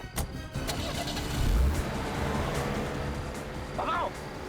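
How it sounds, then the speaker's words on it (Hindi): A car's engine starts and the vehicle speeds away during a tense police-drama chase to reach a bomb at the CID bureau. The engine rumbles steadily under background noise, with a brief higher whine near the end. "गाड़ी तेज चलाओ"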